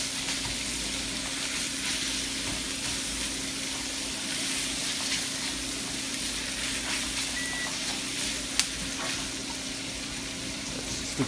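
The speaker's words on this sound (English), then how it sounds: "that's just the timer for the rice." A rice cooker timer beeps in short, faint electronic tones beneath the continuous sizzle of ground pork frying in a pan nearby.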